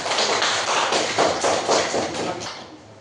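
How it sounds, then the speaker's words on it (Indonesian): Applause from a classroom of students, a dense burst of many hands clapping at once, loud and close, holding steady for about three seconds before starting to fade. "Kita berikan aplaus."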